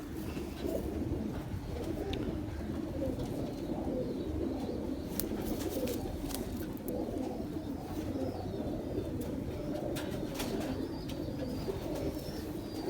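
Pigeons coo in low, rolling murmurs throughout, several birds overlapping continuously with occasional faint chirps and clicks nearby.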